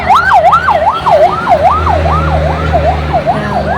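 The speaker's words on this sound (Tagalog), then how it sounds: "Dalawang ambulance na yung dumaan." An ambulance siren on a city street in Davao City wails loudly and close by, its rising and falling tone cycling quickly and steadily over a low rumble of traffic.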